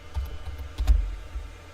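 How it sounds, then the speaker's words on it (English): Fingers type a short name on a computer keyboard, a quick burst of close, crisp key clicks with a couple of heavier thumps, nothing else around. "so I'm just typing Santa"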